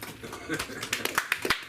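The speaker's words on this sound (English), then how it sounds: "And give yourself a round of applause." Scattered claps from a comedy open mic audience, growing into sharper, louder bursts toward the end, mixed with ongoing talk and room noise.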